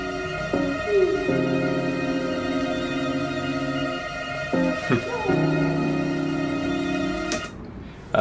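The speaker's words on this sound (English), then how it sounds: "It's strings doing loads of tremolo" Strings playing tremolo in a laid-back song's bridge, layered sustained chords shifting a few times at moderate volume, with no voices over them.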